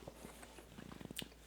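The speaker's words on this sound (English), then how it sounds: "so let's give it the old-fashioned chomp" A bite into a smoked beef birria taco made from chuck roast, heard as a soft crunch followed by a few quiet close chewing sounds, brief and faint.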